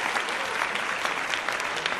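Dense, steady clapping from a crowd applauding Becky on a podcast, a continuous even patter with no pauses and no voices over it.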